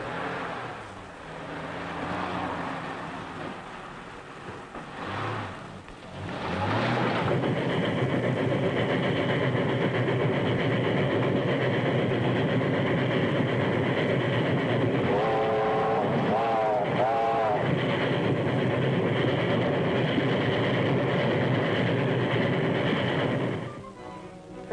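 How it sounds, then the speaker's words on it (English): A passing train in an old radio drama gives a steady, close mechanical rumble lasting about twenty seconds, with a brief wavering tone partway through, before cutting off abruptly. "That's the train."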